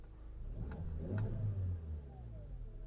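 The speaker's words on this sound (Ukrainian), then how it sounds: "Запустимо двигун. Двигун запускається чудово." A Volkswagen Caddy 1.6 MPI petrol engine with 209,000 km cranks and catches, then settles into a steady idle with a low rumble, close by.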